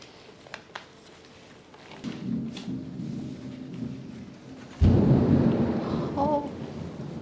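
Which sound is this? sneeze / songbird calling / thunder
thunder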